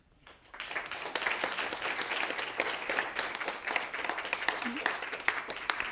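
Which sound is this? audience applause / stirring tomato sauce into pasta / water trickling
audience applause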